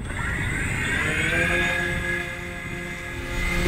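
Propellers of a homemade model ground-effect aircraft carrier lifting off water on its first launch into the wind, a loud, steady whirring drone that holds the whole time with no voices.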